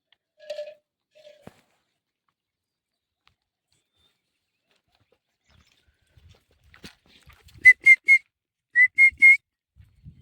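A whistle is blown in short, shrill blasts, three then two in quick succession, after mostly quiet moments with a few faint knocks and thuds around a farm with goats and dogs.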